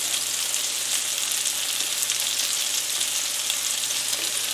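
Salisbury steak patties frying in a hot pan, a steady bright sizzle that holds evenly throughout, close and fairly loud, with no talking.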